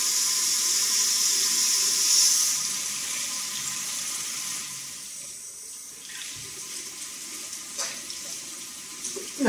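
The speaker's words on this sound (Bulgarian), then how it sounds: "Сега ще позатопля малко водата." Tap water runs steadily from a faucet into a sink, a continuous close splashing hiss that eases off partway through before resuming more faintly, with no talking.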